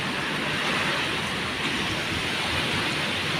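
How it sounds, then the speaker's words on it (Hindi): Strong night storm with heavy rain and gusting wind, a dense, steady hiss of downpour that stays loud and unbroken throughout. "बहुत तेज तूफान बा भाई एकदम।"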